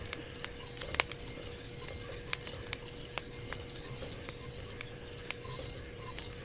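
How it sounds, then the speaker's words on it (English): Coffee beans roasting while being stirred give off faint, sparse crackling pops, sharp little clicks scattered irregularly over a quiet background. "I don't know if you can hear that crackling or not. Yep, sounds like Rice Krispies."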